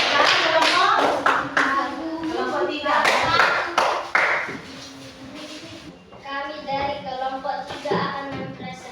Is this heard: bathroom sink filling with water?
no